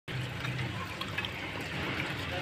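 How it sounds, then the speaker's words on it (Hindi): A side cock tap on a freshly fitted outdoor wash basin releases a steady stream of water, an even close rushing splash with no pauses. "साइड काक में भी पानी आ गया"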